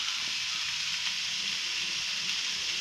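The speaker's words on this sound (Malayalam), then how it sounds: "അരിഞ്ഞു വെച്ച പയർ ഇതിലിട്ട് ഒന്ന് ഇളക്കിയിട്ട്" Chopped long beans sizzle and hiss steadily in a hot pan as they are stirred, a constant bright frying sound close by with no talk.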